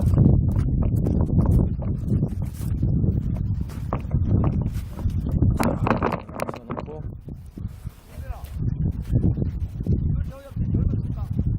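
Strong spring wind buffets a microphone outdoors on a chili pepper farm, loud rumbling gusts surging and easing continuously, with someone talking over it.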